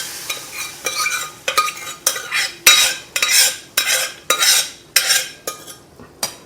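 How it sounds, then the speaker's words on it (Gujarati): A ladle stirs dal in a pan for a tadka, giving about ten rhythmic scraping strokes close up, with faint sizzling beneath and no talking. "જે દાળ છે એને હલાવી અને અંદર નાખી દઈશું"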